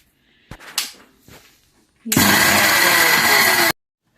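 Mixer grinder grinding whole garam masala spices, a loud steady whir lasting about a second and a half after some handling clatter and knocks.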